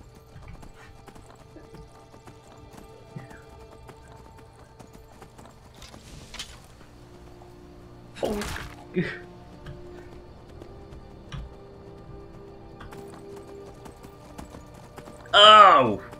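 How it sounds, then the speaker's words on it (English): A horse swims slowly through a lake in Skyrim, with steady soft clip-clop and splashing movement sounds, scattered game effects, and a loud neigh near the end, alongside someone talking. "Oh, horse swimming is unbelievably slow."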